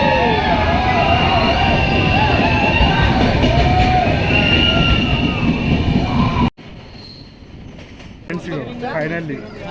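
A train running on the Araku valley railway, a loud continuous rumble and clatter with crowd noise for about six seconds, then cutting to a quieter scene where people talk.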